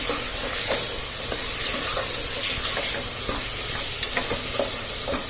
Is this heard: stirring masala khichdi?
yes